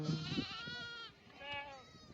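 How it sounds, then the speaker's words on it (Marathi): Sheep and goats bleat in the open countryside, with several wavering, drawn-out calls overlapping at close range. A faint voice sits underneath. "मेंढर बी आली आता"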